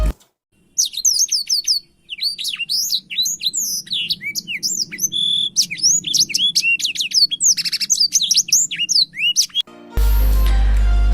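Blackthroat songbirds chirp in quick, high, repeated phrases that run almost continuously, close and loud over a faint low hum, followed by a sudden burst of broadband noise at the end.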